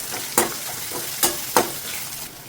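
Chopped onions and a little turmeric frying in hot tempering oil with chana dal, asafoetida and curry leaves, a soft continuous sizzle punctuated by three sharp spoon scrapes against the pan.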